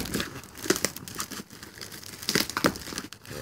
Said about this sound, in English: let's go ahead and get to unboxing this and unwrapping it